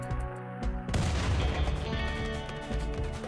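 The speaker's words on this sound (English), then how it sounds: "that was a big explosion" A cruise missile explodes in the modded video game Rimworld: a sudden heavy blast breaks over a tonal music bed, then a dense, crackling roar rumbles on beneath the continuing music.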